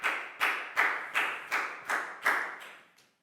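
A classroom of children gives a round of applause for a student in an English lesson, heard as eight evenly spaced, loud clap bursts fading out at the end.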